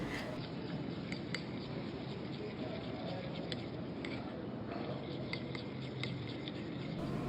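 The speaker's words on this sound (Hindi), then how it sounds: "तहीनी लेंगे हम और उसमें काली मिर्च, नमक ऐड करके अच्छी तरह से मिक्स कर लेंगे" Tahini sauce with black pepper and salt stirred in a bowl, giving a steady run of light clinks and scrapes of a utensil against the dish, close and fairly soft throughout.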